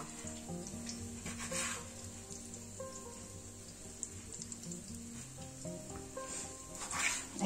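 Onion frying in a pan gives a faint, continuous sizzle with soft crackles and occasional stirring sounds, fairly quiet against low background hum.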